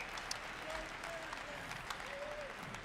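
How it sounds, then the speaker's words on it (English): An audience at the Bitcoin 2022 conference applauds, a faint, continuous patter of clapping heard from a distance with a few scattered voices over it. "Give them a round of applause."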